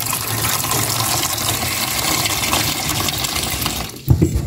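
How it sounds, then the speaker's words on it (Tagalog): Water pours steadily into a cooking pot holding cut-up ingredients and bananas, a continuous close splashing gush that cuts off near the end with a few clunks. "Lagyan ko na ng tubig."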